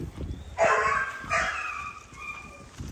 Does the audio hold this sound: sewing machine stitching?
no